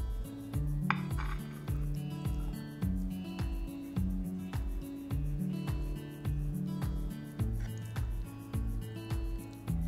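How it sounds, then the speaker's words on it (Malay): Aglio olio seafood pasta being served onto a plate, with rhythmic scraping and clinking of a utensil against a pan and dish, repeated strokes at a steady pace, close and clear. "Tutup api, boleh angkat dan hidanglah dalam pinggan."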